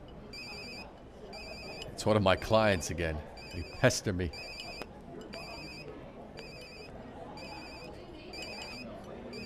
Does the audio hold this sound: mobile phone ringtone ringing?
yes